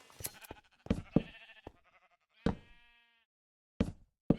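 Minecraft sheep bleat in short, bright cries, several in quick succession followed by a longer wavering bleat and a few more after a pause, close and clear over near-silence.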